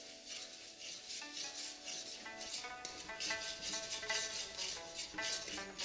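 Spice paste for jackfruit curry being stirred and sautéed in oil in a pan, with repeated scraping and rubbing strokes of a spoon against the pan over a soft sizzle, close and fairly loud, with some tonal ringing.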